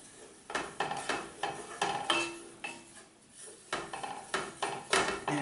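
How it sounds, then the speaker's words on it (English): A utensil stirs flour into melted butter in a pan to make a roux, a series of repeated scraping and clinking strokes in quick bursts with short pauses between them. "So you stir around the flour into the butter."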